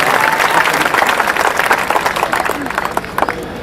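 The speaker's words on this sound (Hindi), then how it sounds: "एक बार पूरी कमेटी के लिए तालियां बजाएं साहब" Sustained applause from a large audience at a Hindi comic poetry show, steady dense clapping that tapers slightly toward the end, with faint voices mixed in.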